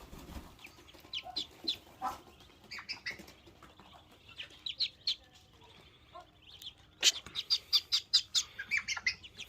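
A mother duck and her young ducklings at a home duck farm give repeated quacks and peeping calls, close and lively, growing into a fast rhythmic run of quacks toward the end, with no talking.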